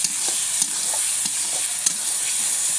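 Tilapia fish curry with tomato sautéing and stirred in a pan, a steady close sizzle with soft scraping stir strokes through it, no voices.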